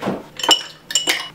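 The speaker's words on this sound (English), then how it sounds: "Okay, and then some ice." Ice cubes dropped into a cocktail glass holding vodka and lemon, two quick clinking bursts a moment apart, close and fairly loud with no talking.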